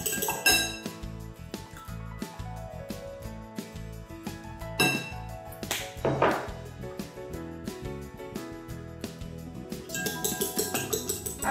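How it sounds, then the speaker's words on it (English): Eggs being whisked with salt and pepper in a bowl for chicken soup: steady, close clinking and tapping of a utensil against the bowl that continues throughout, with no voices. "After we've mixed the eggs with salt and pepper"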